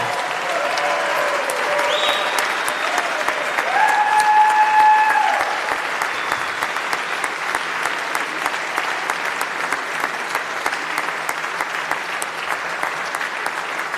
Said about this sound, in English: Give them a huge round of applause for everything they do for us